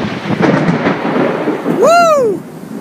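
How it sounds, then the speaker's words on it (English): Rumbling thunder rolls through a severe thunderstorm during a tornado outbreak in Huntsville, Alabama, loud and close, with a sweeping tonal whine rising and falling near the end. "Big storm coming down."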